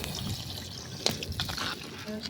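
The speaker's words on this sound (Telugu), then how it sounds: "ఇప్పుడైతే కొన్ని వాటర్ పోసుకుంటున్నా." Water being poured into a pot of chicken curry cooked on a wood-fired stove, a short liquid splash and trickle with a few clinks, close by and fairly quiet, with no one speaking.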